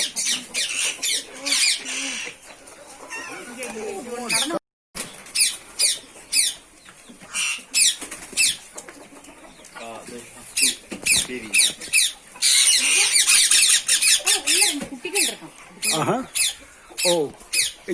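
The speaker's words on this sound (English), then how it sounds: "Look at these birds." Farm birds, including two baby parrots in a box, chirp and squawk in busy, overlapping bursts, close by and fairly loud, with a voice talking over them at times.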